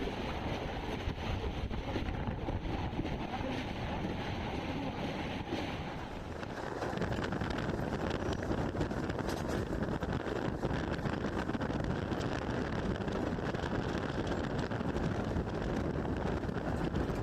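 A train crosses the Narghat rail bridge over the Haldi river, heard as a continuous dense rumble and rattle with heavy wind buffeting; the noise dips briefly partway through, then returns steady and loud.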